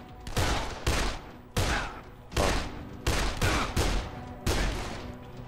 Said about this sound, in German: dann müssen wir jetzt anscheinend mit Pistolen draufballern